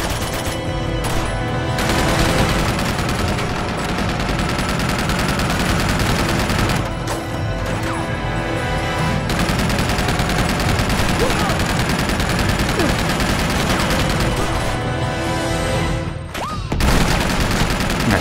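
Dense, loud machine gun fire from the video game Uncharted 2, continuous bursts and rattling volleys filling nearly the whole stretch with only brief gaps, a voice occasionally audible beneath.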